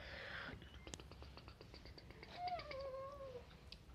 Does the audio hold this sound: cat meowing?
yes